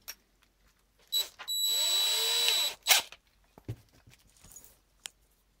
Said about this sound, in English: put it in a drill.